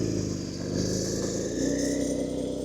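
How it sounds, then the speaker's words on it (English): A Porsche engine idles close by with a low, steady, lumpy rumble. Partway through, a brief rise in tone comes in, then it settles back to an even idle. "Porsche idles always sound so weird."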